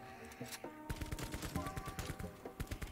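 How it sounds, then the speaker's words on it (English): Bursts of rapid gunfire from the Call of Duty Zombies video game, Tower of Terror map, fired in quick repeated volleys at fairly low level, with no talking. "Now we gotta shoot these guys for ammo"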